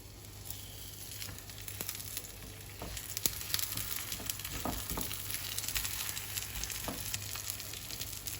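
Onion fries in a pan while a paratha is being made, giving a continuous close sizzle and crackle with scattered pops and soft scraping, steady and moderately loud with no talking.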